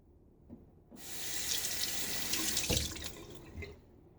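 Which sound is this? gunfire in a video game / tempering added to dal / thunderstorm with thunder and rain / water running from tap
water running from tap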